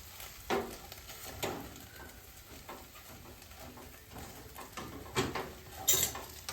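Sausage frying in a pan at home, giving a soft, continuous sizzle with occasional light clinks and scrapes of cooking utensils.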